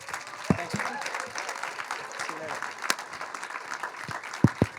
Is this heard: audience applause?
yes